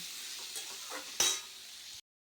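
Potatoes fry in a pan with a soft sizzle and scraping stirs, one louder scrape near the middle, then the sound cuts off abruptly.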